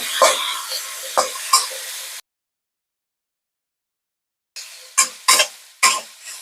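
Soy sauce hits chicken slices frying in a pan for a ginger cilantro dish, giving bursts of sizzling and a few utensil clacks, then a silent gap before more sharp sizzles and scraping stirs.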